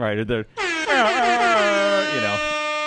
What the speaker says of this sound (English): And sounded off that air horn